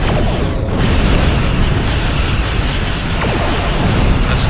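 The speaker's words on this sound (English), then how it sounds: "Fire all phasers and photon torpedoes." Weapon fire in the Star Trek Online space combat game, phasers and photon torpedoes, as a loud, dense, continuous wash of booming blasts and mechanical rumble with no talking.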